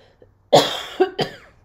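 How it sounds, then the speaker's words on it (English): A person coughs three times in quick succession, close and loud, the first cough harshest and the next two shorter. "So weird that I'm like coughing all of a sudden."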